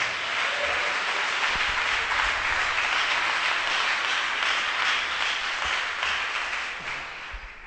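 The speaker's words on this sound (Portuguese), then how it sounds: "Pode dar uma salva de palmas para Jesus." Sustained round of applause from a church congregation during a worship service, dense and steady at moderate distance, tapering slightly at the end.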